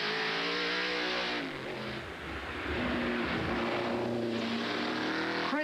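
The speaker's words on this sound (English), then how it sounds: "1969 Boss Mustang, driven by Daniel Lippitz, once part of the Ford Trans Am champion team of 1970" A 1969 Boss Mustang Trans Am race car, once part of Ford's 1970 champion team, climbs a hill, its loud V8 engine roaring and revving steadily, briefly easing off and then surging again at close range.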